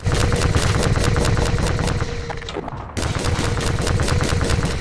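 Enemy gunfire in the video game Half-Life 2: sustained, loud rapid shots in close bursts, with a brief break before the firing resumes.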